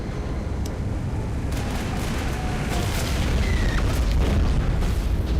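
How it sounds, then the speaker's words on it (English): Missiles fired from the Mako, the armored rover in Mass Effect, burst against enemies in a steady, dense rumble of booms and blasts with no clear breaks, moderately loud throughout. "I'm gonna throw a few missiles out there"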